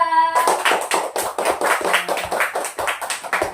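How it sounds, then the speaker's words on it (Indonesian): Classmates clap for a presenting group in a classroom, a small group's close, distinct handclaps in a quick uneven rhythm following a brief tone at the start. "kita berikan tepuk tangan untuk kelompok 2"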